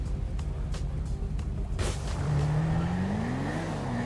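A GTR races in a GTA 5 street race, its engine note droning steadily then climbing in pitch as it revs hard, with a few sharp transient knocks early on and no talk.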